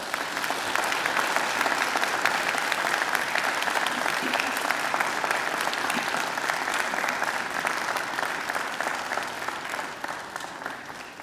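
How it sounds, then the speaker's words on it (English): A large graduation ceremony audience gives sustained, even applause for families and friends, a dense wash of clapping that holds steady for about ten seconds before easing slightly at the end. "And now I invite you to give them a mighty round of applause"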